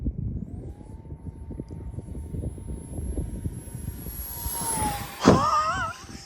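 An A-6 Intruder model jet makes a high-speed pass, its thin whine gliding steadily across the sky before a brief louder rush as it sweeps close by; outdoor chatter murmurs faintly underneath.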